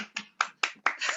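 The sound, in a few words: small group applauding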